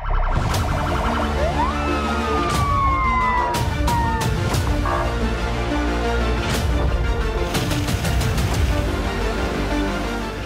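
Fire engine siren wailing loudly up and down as the truck arrives for a training fire drill at a military unit, mixed with engine noise and several sharp bangs or thuds, with no talk heard.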